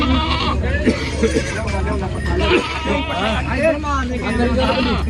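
Goats at a Punjabi goat farm bleat repeatedly, with wavering cries close by that overlap one another, while people talk over them.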